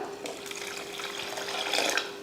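Water is poured into a pot of rasam while cooking, a short, soft continuous splash and gurgle close by, with no talk over it.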